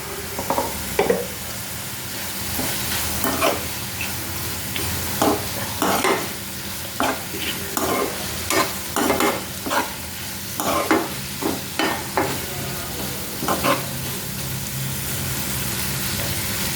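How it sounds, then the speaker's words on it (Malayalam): A spoon scrapes and stirs jackfruit seeds and raw banana frying in a pan, repeated close strokes over a constant sizzle. "നന്നായിട്ടൊന്ന് ഇളക്കി കൊടുക്കാം"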